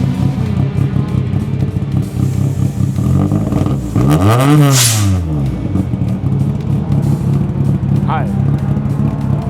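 A Toyota AE86 with a handmade titanium muffler rumbles loudly at idle, then blips into one sharp rev that climbs and falls back, while people talk nearby.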